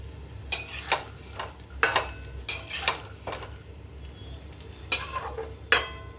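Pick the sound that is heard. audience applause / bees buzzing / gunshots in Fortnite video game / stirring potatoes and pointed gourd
stirring potatoes and pointed gourd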